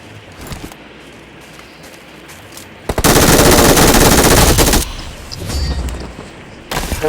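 Shotgun fire in BGMI: a loud, dense volley of shots lasting about two seconds, with a few lighter shots before and after.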